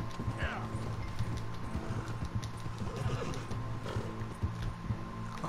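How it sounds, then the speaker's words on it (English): A horse whinnies in the video game Red Dead Redemption 2, with clip-clopping hooves and a low hum beneath. "Now I have my horse."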